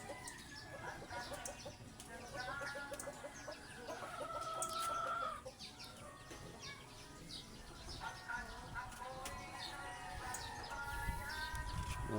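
Chickens cluck and a rooster calls amid a busy outdoor flock, with steady background clucking throughout.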